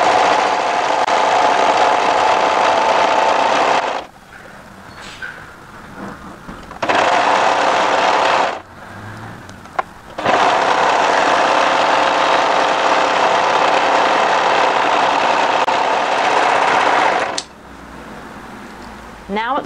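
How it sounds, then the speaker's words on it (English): An overlocker stitches fabric seams and trims threads in loud, sustained whirring bursts broken by short pauses, with quieter handling sounds between runs. "just let that overlocker cut off our threads from before"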